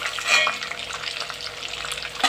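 Chilli chicken pieces fry in a pan with a steady, close crackling sizzle that holds at an even level throughout, with a brief louder flare near the end and no talk.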